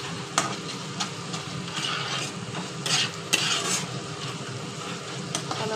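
Potatoes are being stirred and mixed with spices in a pan for Bengali aloo dum, a quiet sizzle under repeated scraping and clinking of a spoon against the metal at an irregular pace, with no talking.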